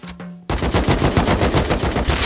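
Rapid automatic gunfire from the survival video game Rust, a loud sustained burst of closely spaced shots that starts abruptly after a brief quiet moment and keeps going to the end.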